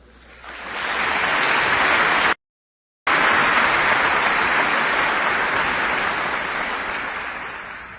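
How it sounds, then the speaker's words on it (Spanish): An audience at UNAM gives sustained applause to welcome the speakers, a dense roar of clapping that swells quickly, breaks off briefly midway, and resumes before slowly tapering, with no talk over it. "un aplauso."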